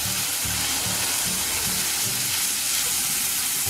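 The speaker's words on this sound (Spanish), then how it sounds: "Y esperamos que se dore un poquito. Debemos cuidar la cebollita, mezclarla un poquito, ya que tiene un poco aceite" Chopped onion sizzles in a small amount of oil in a pan, a steady, close frying hiss with soft stirring and scraping sounds underneath.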